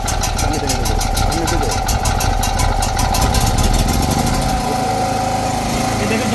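A 3 kW gasoline generator running at a steady, loud idle with a buzzy, rattling drone, while someone talks over it nearby.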